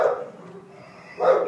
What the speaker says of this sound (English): His whole body shakes when he barks.